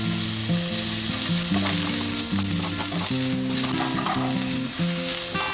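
Chopped onions and tomato fry in a pan for a masala bitter gourd curry, giving a loud, steady sizzle throughout with a tonal background melody beneath it.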